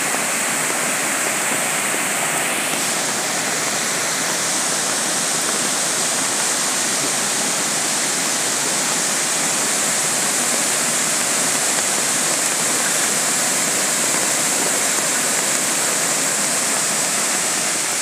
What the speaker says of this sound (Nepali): त्यसकै पानी आएको यो शिशु पुल बनाएको छ, त्यो साङ्गाको पानी हो यो फल।